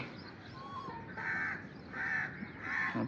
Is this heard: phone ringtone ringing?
no